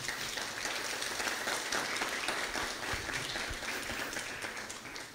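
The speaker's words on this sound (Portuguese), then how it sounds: "Uma salva de palmas para essas pessoas, gente." Sustained applause from an audience at a church or evangelical gathering, a dense even wash of clapping that fills the whole stretch at steady loudness with no voices standing out.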